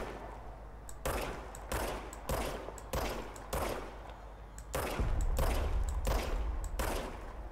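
Rapid gunfire from a gun in the video game Control, loud bursts repeating in roughly half-second rhythm over about seven seconds, with a heavier low rumble building toward the end.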